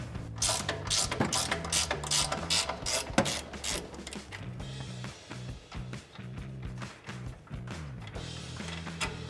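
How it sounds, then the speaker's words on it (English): A socket wrench ratchets out the strut bolts on a Toyota Tacoma during a Rough Country 2-inch leveling strut extension install, with bursts of quick, close metallic clicking in uneven runs over the full stretch. "Using your socket or wrench, go ahead and remove it."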